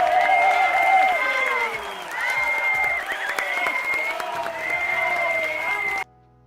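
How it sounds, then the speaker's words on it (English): Crowd applause and cheering play during a live gold futures day-trading stream, a loud sustained clapping burst with tonal music running underneath that cuts off abruptly near the end. "Can we clap it up"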